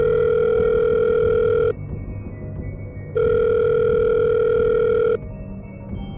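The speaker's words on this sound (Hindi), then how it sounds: "तभी उसकी माँ का फोन आया" A telephone rings twice in long electronic bursts, each followed by a pause, loud and close.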